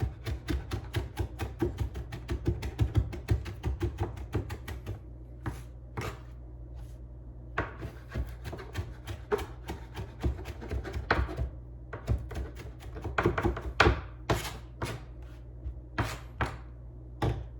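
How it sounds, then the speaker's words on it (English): A knife chops fresh cilantro on a board, fast and close, in a steady stream of crisp taps that pauses briefly and then resumes in quicker bursts. "You want to cut the cilantro not too thin, but not too thick either."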